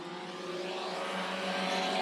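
Short-track race cars of the Texas Short Track Racing Series roar off at the green flag, a dense, steady engine drone that gradually builds in loudness as the pack accelerates toward turn one.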